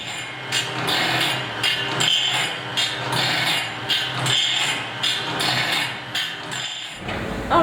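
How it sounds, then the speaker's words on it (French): Grinding wheel working the teeth of a sawmill blade in a wood-industry workshop, loud rhythmic rasping pulses repeating about once a second, ending abruptly before a brief different noise. "je dois d'abord commencer par descendre la meule jusqu'au creux dedans"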